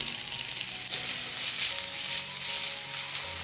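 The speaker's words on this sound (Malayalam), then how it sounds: "ഇനി ഇതിലേക്ക് രണ്ട് മീഡിയം സൈസ് സവാള ചെറുതായിട്ട് കട്ട് ചെയ്ത് ഇട്ട് കൊടുക്കാം" Chopped onions with green chilies sizzle steadily in a hot pan of oil, a continuous close, moderately loud frying hiss with faint stirring scrapes underneath.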